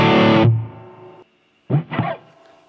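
A distorted electric guitar chord through a Harley Benton HB-20R amp with spring reverb rings out with a reverb tail, falls silent, then two short distorted notes follow.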